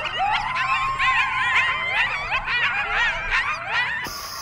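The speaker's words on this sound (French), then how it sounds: "ça ressemble grandement à des coyotes" Coyotes yipping and howling together: a close chorus of overlapping wavering howls and rapid high yips, sustained for several seconds before cutting off abruptly.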